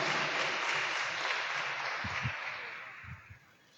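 Applause from a church congregation welcoming a visiting priest at an evening service, a dense steady wash of clapping that tapers off toward the end, with a few low thumps near the close.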